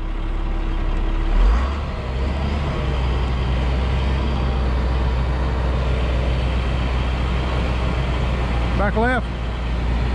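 A dump truck engine rumbles steadily as the truck works its way out of deep mud, a low continuous drone under people calling out directions.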